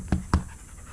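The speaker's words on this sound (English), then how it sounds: "look at them panting like fools" Huskies pant after a run beside mountain bikes near Whistler, with two sharp close breaths followed by softer, quicker panting and no voices.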